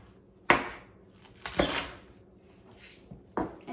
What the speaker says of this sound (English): making that rocking motion with the knife